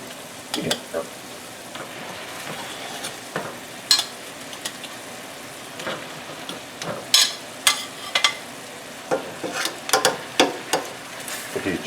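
Pork chops sizzling in a skillet of reduced sauce: a steady close sizzle and bubbling with repeated sharp scrapes and clacks of a utensil against the pan, growing busier toward the end.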